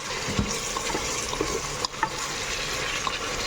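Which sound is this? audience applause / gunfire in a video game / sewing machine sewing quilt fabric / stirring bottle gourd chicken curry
stirring bottle gourd chicken curry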